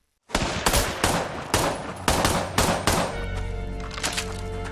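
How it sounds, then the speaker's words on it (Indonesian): A rapid series of heavy gunshots in an action-film scene, about seven booming blasts in quick succession, loud and close, followed by a low rumbling tail and a few fainter thuds. "Cole ditembak oleh si cucu menggunakan shotgun trogon yang tepat"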